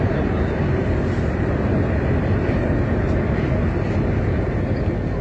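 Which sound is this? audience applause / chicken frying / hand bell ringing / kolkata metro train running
kolkata metro train running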